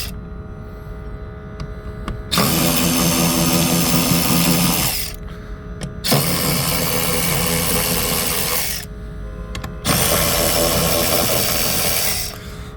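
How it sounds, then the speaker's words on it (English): Power tool undoing bolts on a Mercedes engine bay while removing the ECU and airbox: three loud whirring bursts of a few seconds each, separated by short pauses over a steady background hum. "we're going to open some of these bolts here, put that in the right direction"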